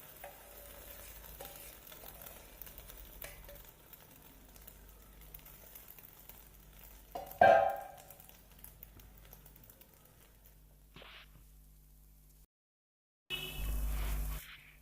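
Beaten egg poured into a hot oiled ladle for a karandi omelette, giving a faint, low sizzle with a brief louder splash of cooking noise midway, then a short gap of near silence before a fuller sizzle returns.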